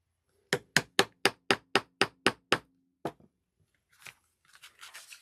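A hammer striking a 3/32 punch to cut holes in a mat: eight sharp, evenly spaced blows in quick succession, close and loud, followed by a lone strike and some softer handling noise.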